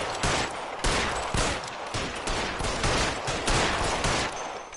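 Rapid bursts of gunfire ring out in the L.A. Noire video game, loud and close, as repeated shots fire in quick rhythmic volleys with brief gaps between bursts.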